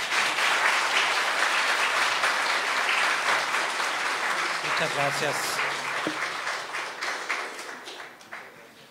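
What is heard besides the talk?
audience applause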